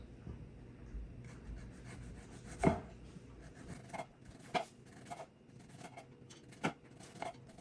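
A knife cuts the cores from green tomatoes in a quiet kitchen, producing faint rubbing strokes and a few soft, irregularly spaced chopping taps against a board.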